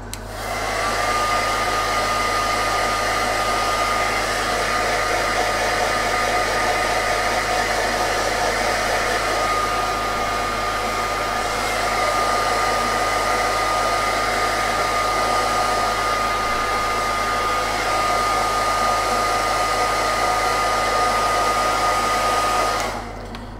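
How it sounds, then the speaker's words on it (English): A hair dryer blows with a steady, loud whooshing roar and motor hum, running continuously from start to finish without any voices. "quick blast with the hairdryer again"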